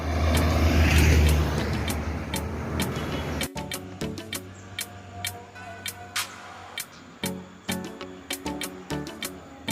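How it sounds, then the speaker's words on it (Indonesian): Two ANS intercity buses bound for Jakarta and Bandung rumble nearby: a low engine drone at first, then a quieter idle under a steady ticking pulse and intermittent clicks. "Dua unit bus ANS menuju Jakarta Bandung."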